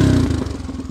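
A 1979 Honda XR250 off-road motorcycle runs close by with a loud, throbbing single-cylinder engine. The burst is brief and steady, about a second long.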